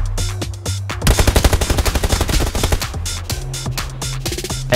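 Automatic gunfire from the battle royale video game PUBG, a loud close burst of rapid shots followed by scattered single cracks over a low game hum, no speech.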